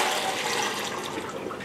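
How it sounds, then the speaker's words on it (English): Soaked beans draining through a colander at a kitchen sink: a steady, close rush of water pouring through, continuous and even throughout with no voices. "Now we're going to take our pot over to the sink here and drain them in a colander."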